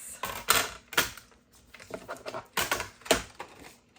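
Scissors snip through a shrink plastic sheet in a series of crisp, close cutting strokes, a handful of sharp bursts spaced irregularly with quiet pauses between them and no talking.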